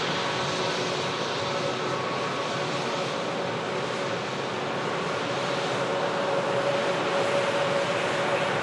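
Virgin Atlantic Airbus A330 airliner rolling for departure at an airport, a steady broadband jet engine roar with a faint whine, loud and continuous throughout, no talk.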